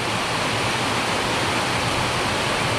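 Heavy midnight rain pours over an outdoor cockatiel breeding aviary, a dense, steady, unbroken wash of noise that sounds close and loud, with no voices.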